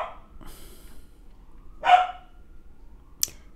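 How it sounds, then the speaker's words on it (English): A dog barks in a few separate sharp bursts, one louder bark standing out near the middle and a quick yip at the end, with quiet gaps between. "This is what I have to go through every day, is my dog barking."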